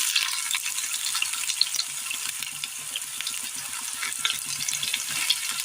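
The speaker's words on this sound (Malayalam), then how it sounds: "ഇതിലേക്ക് നമുക്ക് ചെറിയുള്ളി അരിഞ്ഞിട്ട് കൊടുക്കാം." Chopped shallots sizzle and crackle steadily in hot oil, a continuous close frying hiss with small pops scattered throughout.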